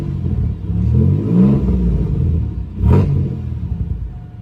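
A supercharged GM 3800 V6 that struggles to start revs up in a rough, rumbling surge, swelling twice with a sharper blip near the end, loud and close with no talking.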